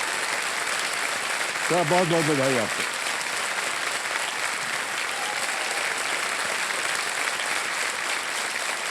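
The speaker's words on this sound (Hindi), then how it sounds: "तालियां बजती रहे इनके लिए" A game-show studio audience applauds a contestant, a steady loud clapping that runs the whole time while someone briefly speaks over it.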